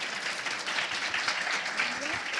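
Warm audience applause at an education workshop, a steady wash of clapping hands filling the room for its full length, with no gaps.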